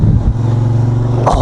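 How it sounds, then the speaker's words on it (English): A quad ATV engine gives a short loud rev as the throttle is hit near Oliver, BC, a steady close growl lasting just over a second. "he accidentally hits the throttle."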